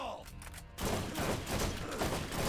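Rapid gunfire bursts in Borderlands erupt loud and dense after a quieter opening, sustained sharp volleys of shots filling the rest, with a voice briefly heard.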